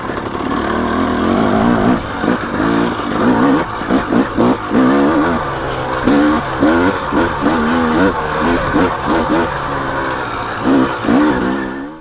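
KTM dirt bike engine, 250XC or 300XC two-stroke, revving hard in second gear on tight trails, with a loud, buzzing engine rising and falling in repeated throttle blips up close.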